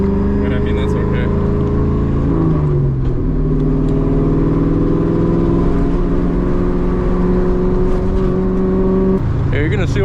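Interior drone of a straight-piped 2003 Mustang GT driving, a loud, steady engine note with shifting harmonic pitch as revs change, plus brief rattles and road noise.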